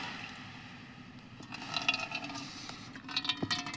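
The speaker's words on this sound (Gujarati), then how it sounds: "આપણે આમાં પાણી નાખશી" Water splashes and pours briefly into a khichdi pot outdoors, short gurgling bursts after a quiet start, close by.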